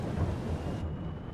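Farming Simulator 22 rainstorm: a deep rumble of thunder rolls over steady heavy rain, then cuts off sharply partway through, leaving a softer low wash.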